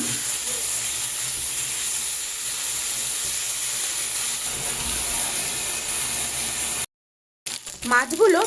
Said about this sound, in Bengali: এবার এর মধ্যেই আমি মাছগুলোকে দিয়ে দেব।